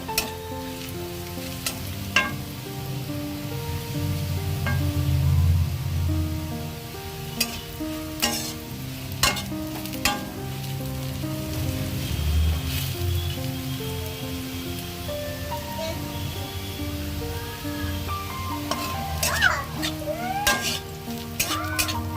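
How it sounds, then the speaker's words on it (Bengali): Vegetable peels (khosha) fry in a small amount of oil while being stirred, a steady close sizzle broken by repeated scraping and clattering of the spatula against the pan, with no voices. "দেখতে পাচ্ছ আস্তে আস্তে ভাজা ভাজা হচ্ছে, আরো ভাজতে হবে।"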